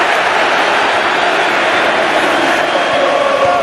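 A stadium crowd roars at a football match between Real Madrid and Juventus, a dense, steady wall of cheering and noise that stays loud and unbroken throughout.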